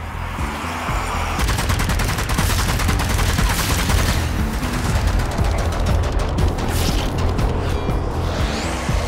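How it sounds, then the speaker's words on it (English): Gunfire from shooting zombies in the video game Zombie Army 4: Dead War, a loud, dense, continuous burst of rapid shots with mechanical clatter and crashes, with no talking. "if you want to pop these guys from a distance, is to simply spend a bullet to shoot them apart"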